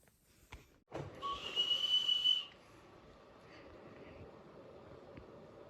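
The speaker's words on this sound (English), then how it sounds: "the sound of the whistle" A sharp, steady whistle blast lasting about a second and a half, preceded by a brief click, then quiet background hum.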